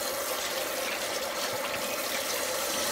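Tap water running steadily while plates are washed, a continuous even gush close to the listener with no break and no talk.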